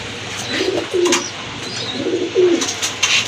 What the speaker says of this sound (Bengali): এই যে দেখেন খুবই কিউট এক জোড়া কবুতর মাশাল্লাহ